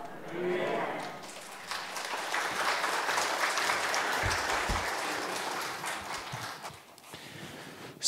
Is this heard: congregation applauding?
yes